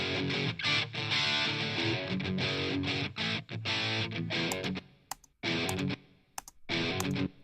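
Electric guitar with a short roomy stock room reverb plays choppy strummed chords, stopping and starting with brief gaps and ringing tails between phrases.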